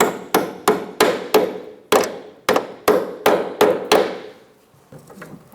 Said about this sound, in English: You may have to give it a couple of whacks with the hammer.